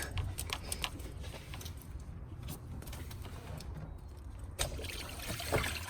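Coolant water drains and trickles from a pulled-back thermostat hose on an Acura MDX (2001-2006), a faint, uneven splashing dribble with no voices.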